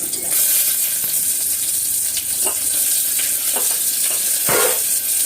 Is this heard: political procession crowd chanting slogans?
no